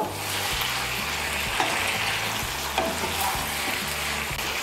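Salt stirred into a fish head frying with greens in a pan, a steady close sizzle with a rhythmic scraping of a spatula and a couple of sharp clinks.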